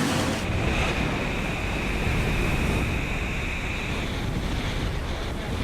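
Strong wind roars and big Atlantic seas crash around a Volvo Ocean Race yacht sailing at about 30 knots in 30 knots of breeze, a loud, steady blast of wind and surf with no pauses.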